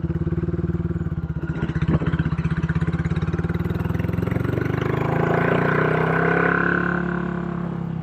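A customized Royal Enfield 411 motorcycle engine runs with a rapid, throaty, bassy thump that builds in loudness as it revs up, close and alone with no voices.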